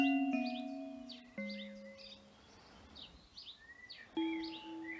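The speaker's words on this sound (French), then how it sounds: "Il y a aussi les chants d'oiseaux." Birdsong in a garden with jasmine and wisteria: many short chirps and trills scattered across the clip over steady sustained bell-like tones.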